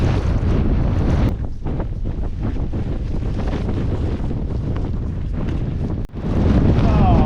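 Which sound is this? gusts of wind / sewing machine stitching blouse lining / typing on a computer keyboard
gusts of wind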